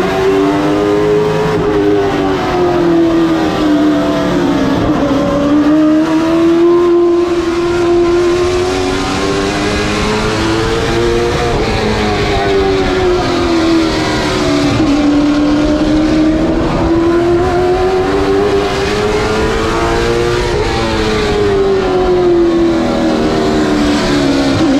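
Race cars roaring together at the start of a 125-lap asphalt race, a loud continuous engine drone that rises and falls in pitch as the field accelerates, with no voices over it.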